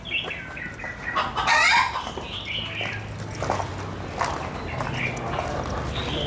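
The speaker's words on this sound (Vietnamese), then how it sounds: "Khu bên kia cũng là gà." Chickens cluck and squawk in a backyard coop, with one loud burst of agitated cackling and softer clucks continuing, while people talk nearby.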